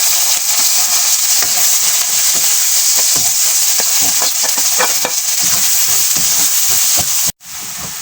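Onion and garlic sauté in a pan with a loud, steady sizzle and crackle up close, along with occasional stirring scrapes, until the sizzle briefly cuts out near the end.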